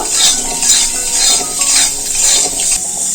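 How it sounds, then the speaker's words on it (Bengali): Hog plums seasoned with salt and turmeric being sautéed in a pan: close metallic scraping of a spoon against the pan in repeated strokes over a bright, hissy background, with no voices. "এই আমড়াটা একটু কষিয়ে নেব"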